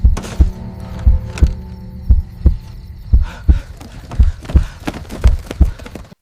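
Heartbeat sound effect in a horror-story setting: steady paired low thumps, lub-dub, repeating about every second, loud and close over a faint hum, no voices.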